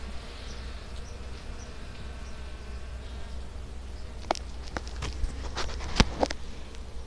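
Honeybees buzz in a low, steady drone close by during a summer hive inspection, with sharp clicks and knocks of frames and handling breaking in toward the end.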